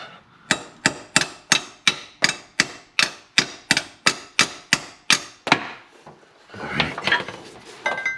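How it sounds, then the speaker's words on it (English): Sharp metallic hammer blows strike in a steady run of about fifteen evenly spaced hits, knocking out a pilot bearing during a clutch install, close and loud, then a brief pause and a scuffle of tools and rattling parts. "you want to hook it in there essentially and hammer it out"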